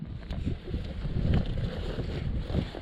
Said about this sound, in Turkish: Özellikle şu an rüzgar var